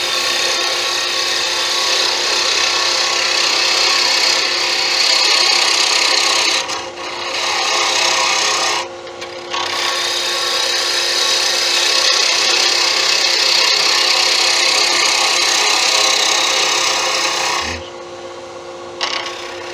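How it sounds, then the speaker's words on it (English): A wood-turning gouge cuts a spinning dowel on a lathe, giving a steady, loud rasping scrape that runs almost continuously, broken by brief pauses near the middle and end. "I can still take more off that with a gouge, so I will."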